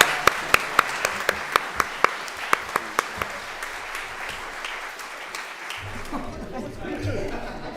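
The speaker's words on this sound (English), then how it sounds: "Let's give them another round of applause." An audience at a parliamentary celebration of a century of women in New South Wales applauds, opening with sharp, evenly spaced claps over a crowd wash that settles into softer, steady applause with faint chatter.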